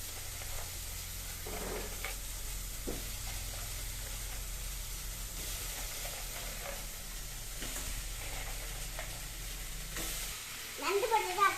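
Crab pieces fry in a pan for a crab curry while being stirred. A continuous close sizzle carries occasional scraping stirs, ending in a louder clatter.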